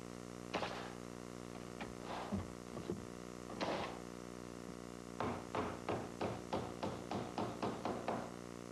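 Hammer nailing up a wood-framed playhouse wall with an attic window opening: a few scattered heavy blows early, then a steady run of about eight evenly spaced strikes, close and sharp over a faint background hum.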